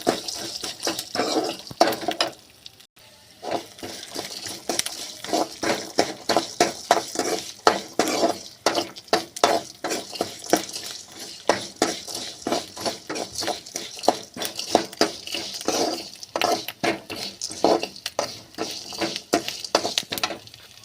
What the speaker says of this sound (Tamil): கொஞ்சமாக எண்ணெய் ஊற்றி இதில் எல்லாமே லைட்டாக வறுத்து எடுத்துக்கலாம்